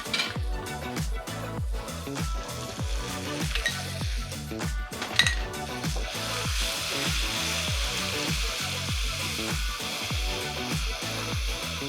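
Carrot curd chutney is stirred into a hot tempering, with a strong steady sizzle under repeated rhythmic scraping and tapping of a spoon against the pan, close and continuous.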